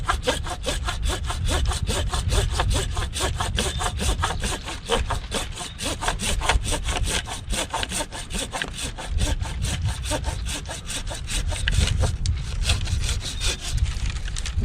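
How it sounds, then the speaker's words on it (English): A hand saw cuts a branch off an apple tree just outside the collar, with fast, even back-and-forth strokes rasping through the wood for about fifteen seconds, close and unbroken by speech. "Now I'm going to go ahead and come in and cut this branch off outside of the collar."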